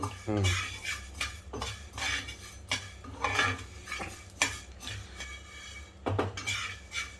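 Coriander seeds being roasted in a pan for Tamil Nadu style pulihora podi, with a spoon repeatedly scraping and clinking against the metal in an uneven rhythm, close and fairly loud, no one talking.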